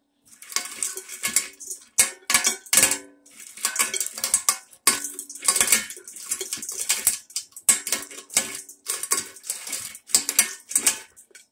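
A DaveBilt nutcracker cracking acorns for hulling makes a run of sharp, hard clicks and snaps, uneven in rhythm, each crack close and crisp with brief rattling between.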